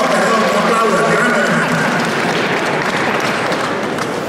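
Audience at a talk on community radio and media breaks into applause, a dense, loud, continuous patter of many hands with a crowd murmur beneath, holding steady throughout.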